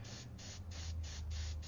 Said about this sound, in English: So I'm just going to keep on spraying here and laying it in.